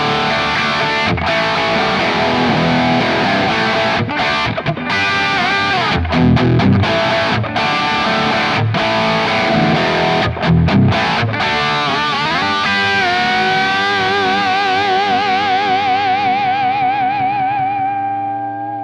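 An electric guitar played through a Marshall amp profile loaded on a Kemper, with rich, vintage-style distorted chords and sustained notes that ring out densely, loud and close, with short chopped breaks, and the last note swells into wavering feedback before fading.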